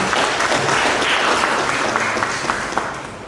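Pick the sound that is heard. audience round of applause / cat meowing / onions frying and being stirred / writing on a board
audience round of applause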